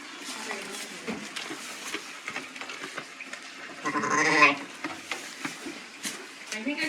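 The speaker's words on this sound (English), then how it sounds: "we got to bring the lambs and the mum in here" Lambs and ewes bleat on a sheep farm in early spring, a louder cluster of cries rising in the middle among shuffling and other barn noise, with speech-like sounds around them.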